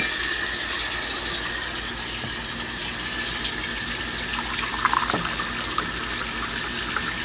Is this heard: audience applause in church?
no